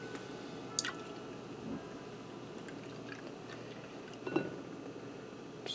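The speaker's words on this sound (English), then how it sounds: "Now I'm going to add in 2 cups of heavy whipping cream." Heavy whipping cream is poured into a Ninja Speedi, a faint, soft liquid trickle with a few small drips and splashes, heard quietly against a low background.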